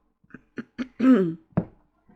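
A person coughs several times in a short burst, close to the microphone, ending with one more sharp cough after a brief pause.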